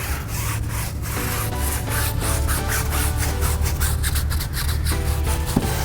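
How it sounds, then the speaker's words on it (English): A stiff brush scrubs citrus gel wheel cleaner, foaming over brake dust, on car rims, making a steady loud rhythmic scrubbing and rubbing with quick repeated strokes throughout, close up and with no voices. "spray the cleaner directly into the brush, then agitate it all out"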